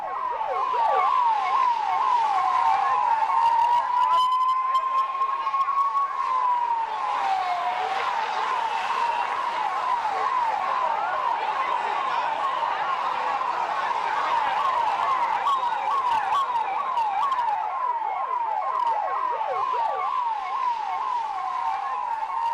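Fire brigade vehicles respond to a fire at the Maha Kumbh gathering, a loud, continuous wailing siren sweeping up and down steadily and fairly close, with faint background noise.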